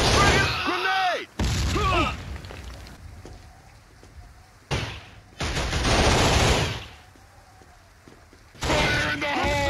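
Bursts of rapid gunfire in a war film crackle in three heavy volleys separated by quieter stretches, with shouted voices and low rumbling between the bursts.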